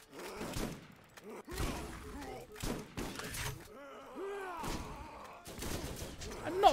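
Shotgun blasts in the shooter video game Borderlands: several loud, punchy bursts spaced irregularly, each with a sharp attack and a booming decay, separated by brief quieter gaps.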